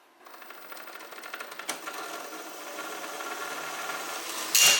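A homemade brushless motor built from LEGO spins up a large propeller, giving a steady mechanical whirring buzz that builds in loudness over several seconds and ends in a sharp burst.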